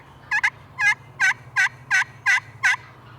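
Wild turkeys gobble in a quick series of loud, bubbling calls, seven bursts close together over a low background hum, after landing on the ground during a spring hunt.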